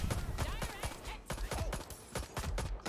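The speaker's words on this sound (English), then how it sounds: "Stop shooting me!" Rapid bursts of gunfire in a retro video game come in quick irregular volleys, loud and close, with a voice shouting over part of the shooting.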